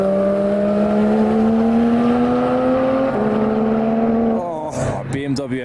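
A BMW M2 drifting on the wet Nürburgring Nordschleife during a public session: a loud engine holding a steady, slowly rising note that drops at a gear change and breaks up into tyre and throttle noise, with excited commentary over it.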